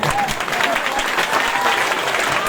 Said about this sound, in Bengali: আমরা সবাই হাততালি দিয়ে সবাই ওনাকে গ্রহণ করি